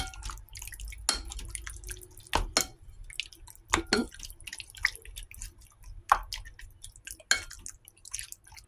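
Seasoned chicken pieces with ginger juice are stirred in a bowl, giving wet, squishy, irregular slaps and drips at close range, quiet between strokes, with no talking.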